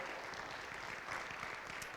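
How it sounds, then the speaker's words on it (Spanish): Steady applause from a church congregation, a continuous dense patter of clapping at moderate volume throughout, with no talk over it. "De un aplauso al Señor"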